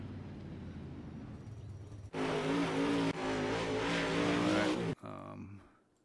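A UMP modified race car engine in iRacing drones low, then surges loud into a sustained high revving roar for about three seconds before cutting off sharply, with a brief rev tailing away at the end.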